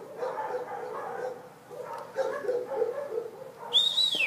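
Small fluffy puppies yapping in short bursts at moderate distance, mixed with some background voices, followed by a sharp rising-falling whistle near the end.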